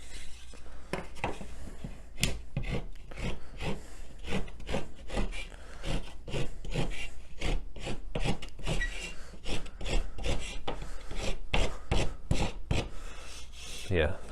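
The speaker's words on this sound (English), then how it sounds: "going to put a few scratches in here though, just to make sure they can get some good purchase." Wood surface of a homemade mousetrap ramp being scratched rough, a quick series of sharp scraping strokes in an uneven rhythm, close and moderately loud.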